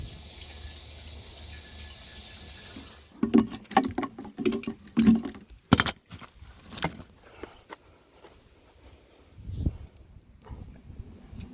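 Water runs steadily for a few seconds while a caravan's water supply is hooked up at a farm campsite. Clattering, handling noises and knocks of the fittings follow, fairly close, with no speech.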